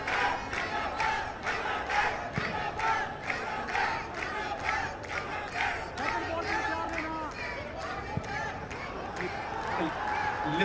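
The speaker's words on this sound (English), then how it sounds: "Listen to the cheer." A football stadium crowd in a Bangladesh match roars and chants continuously, a dense, loud wash of many voices with rhythmic pulses, cheering under added time.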